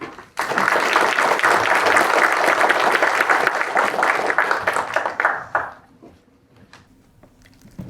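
An audience applauds to welcome speaker Nikita Roy at a speaker series event, a dense, sustained burst of clapping for about five seconds that tapers off into near silence.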